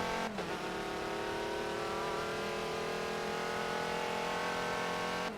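The high-pitched engine of a 2011 Audi LMP1 race car in a video game holds a steady, sustained whine throughout, loud and continuous, with no voices over it.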